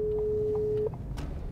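Telephone tone heard while placing a call during the busy harvest season, a steady close single beep held for most of a second before it cuts off, followed by faint background sound.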